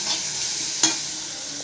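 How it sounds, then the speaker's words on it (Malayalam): Onion, green chilli and crushed garlic sizzle while being sautéed in a pan for biryani, a continuous close frying hiss with one sharp stirring clack partway through, no voices. "ഈ സവോള പച്ചമുളക് വെളുത്തുള്ളിയൊക്കെ ഇട്ടിട്ട് വഴറ്റുക."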